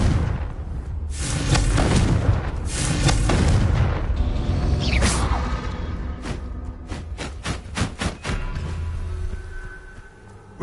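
The Confringo fire spell in the Hogwarts Legacy video game sets off several loud booming explosions with rumbling tails, followed by a series of sharp, rapid impact cracks.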